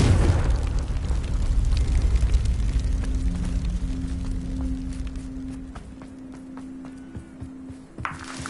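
A Confringo fire spell exploding in Hogwarts Legacy, a loud booming blast with a crackling burst that slowly fades into a low hum, followed by light footsteps and small pops.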